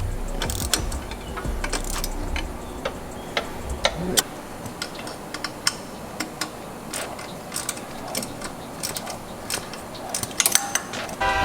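A ratchet wrench tightens bolts on Subaru Killer B equal-length headers, making close, quick clicking runs and scattered metallic ticks at an uneven pace across a quiet garage.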